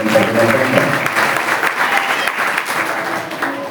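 Loud, sustained clapping from an audience at a devotional religious gathering, dense and even for the whole stretch, with a voice heard faintly at the start.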